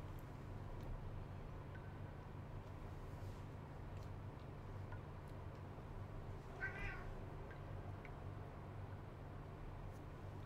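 A house cat meows once or twice, faint and brief, over a steady low hum in a quiet room.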